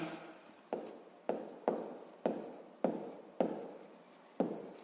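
A pen writes on paper while working a sixth-grade geometry problem, with a steady series of sharp scratching strokes about every half second, close and alone with no talk.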